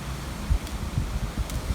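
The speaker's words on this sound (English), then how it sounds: "Very windy here today." Wind blowing outdoors during a jump-rope workout, heard as low, uneven gusting rumble buffeting the microphone, with no voices.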